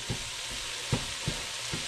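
Chopped ravioli filling sizzles steadily in a hot pan as it cooks down, with a continuous frying hiss broken by several soft knocks of stirring at irregular intervals.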